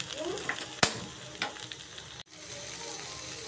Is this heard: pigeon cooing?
no